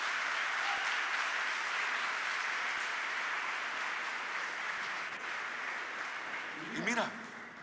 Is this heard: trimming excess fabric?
no